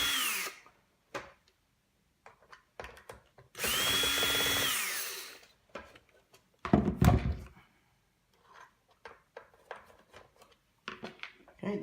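A power screwdriver runs in one steady burst of a few seconds while undoing screws on a De'Longhi Magnifica coffee machine being dismantled, followed by clunks and handling knocks, with speech between.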